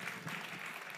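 Audience applause at a live talk or church gathering, a steady dense patter of many clapping hands filling the whole moment at moderate loudness, with no speech over it.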